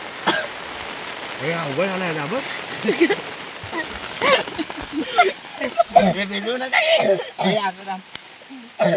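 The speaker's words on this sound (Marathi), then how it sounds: "पाऊस भरपूर आहे" Heavy rain falls at a dam as a continuous broadband hiss, heard under several people talking close by.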